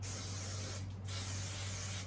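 Hair styling spray sprayed onto hair while shaping a faux bob in a salon, two close, loud hissing bursts separated by a brief pause, with a steady low hum underneath.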